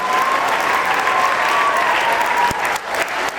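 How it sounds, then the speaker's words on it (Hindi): A school annual-function audience gives a loud standing ovation of dense clapping, sustained and slightly thinning toward the end. "खड़े होकर एक बार तालियां बज जाएंगी।"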